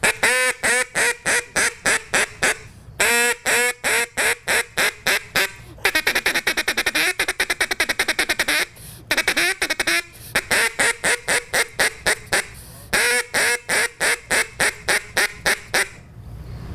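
A handmade wooden duck call made in Roane County is blown in long rapid runs of loud, close quacks, broken by brief pauses and a feeding chatter in the middle, imitating ducks with no talking.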